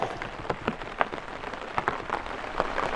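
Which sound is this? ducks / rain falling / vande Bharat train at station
rain falling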